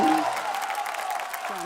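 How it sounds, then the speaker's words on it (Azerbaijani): An audience applauds at a televised talent show, a steady wash of clapping that tapers slightly, with a voice briefly audible at the start and again near the end. "Alqışlar"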